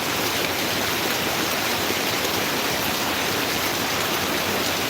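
Heavy monsoon rain pours steadily in Kerala, a dense, even hiss that stays loud and constant throughout with no voices.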